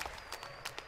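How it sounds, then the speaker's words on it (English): Esports crowd at a Red Bull Battle Grounds StarCraft match in New York, cheering and clapping in quick bursts that swell and fade against a steady hall murmur. "The crowd here reacts."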